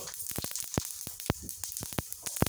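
Mustard seeds and other tempering spices crackle and sizzle in hot oil, with sharp irregular pops bursting over a soft continuous hiss, close and fairly quiet.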